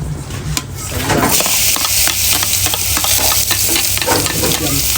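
Pounded chili and garlic stir-fry in hot oil in a pan, a loud, steady sizzle with scraping stir strokes close by, after a brief quieter start; no talking.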